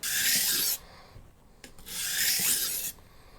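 A kitchen knife held in an angle guide is drawn across a 1000 grit sharpening stone in two long, loud abrasive rasping strokes, separated by a quieter pause with a faint click.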